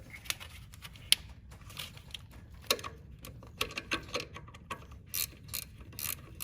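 A 10mm wrench ratchets a nut off the back of a Chevrolet/GM alternator, giving repeated close, quiet mechanical clicks and ticks in irregular bursts with no talking.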